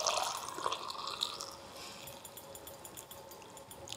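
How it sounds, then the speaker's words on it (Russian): Hot syrup flavored with honey, cinnamon and vanilla poured into a jar of plums, a soft continuous liquid pouring and trickling sound, fairly quiet and steady, tapering slightly over a few seconds with no talking. "Сироп закипел, я могу заливать сливу. Заливаем до плечика."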